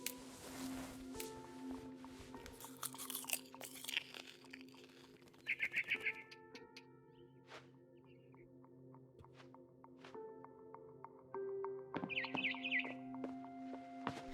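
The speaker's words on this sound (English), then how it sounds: "Then I heard chirping outside my window." Bird chirps from a barn swallow in a video game ring out in brief, bright bursts around the middle and near the end, layered over a steady hum of game ambience and music-like tones.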